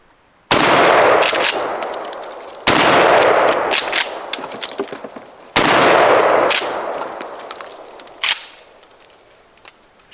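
A Mossberg Shockwave 12-gauge firearm loaded with birdshot fires three loud, sharp blasts at roughly two-to-three-second intervals outdoors, each with a long decaying echo, followed by a fainter closing bang.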